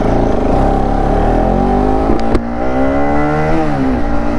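A motorbike engine recorded up close from a helmet-mounted GoPro during a ride, its steady whining drone rising and falling in pitch as the throttle shifts, with no talking.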